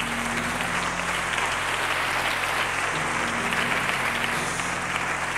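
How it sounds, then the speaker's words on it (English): Sustained audience applause at a gospel performance honoring NAACP president Freddye Davis, a dense wash of many hands clapping continuously throughout, loud and even. "Give her a hand clap for me, please."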